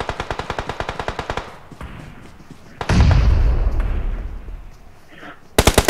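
Bursts of rapid automatic gunfire in PUBG Mobile, a fast even volley that fades, then a heavy boom with a rumbling tail, and another short burst at the end, with players talking over parts of it.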